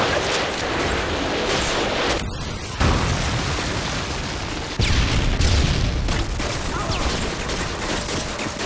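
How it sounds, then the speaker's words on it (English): Predator missile strike in Modern Warfare 2 during a team deathmatch: dense, loud booming blasts and rattling gunfire run throughout, with a sharp impact surge near the middle and another heavy burst toward the end. "Friendly Predator missile inbound."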